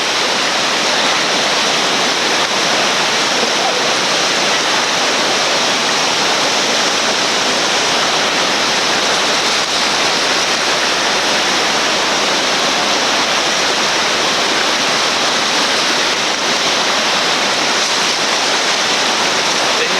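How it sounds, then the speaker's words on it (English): Whitewater river rapids with big waves at Fayette Station in West Virginia roar in a loud, unbroken rush of churning water, dense and steady throughout with no pauses. "working those big waves in the center"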